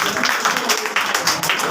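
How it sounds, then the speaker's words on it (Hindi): Applause welcoming a student named to second position at a class award ceremony, a steady wash of many hands clapping at moderate level with speech mixed in. "तो सेकंड पोजीशन है वैष्णवी कुमारी, इसके लिए भी भाई जोरदार तालियों से स्वागत करिए।"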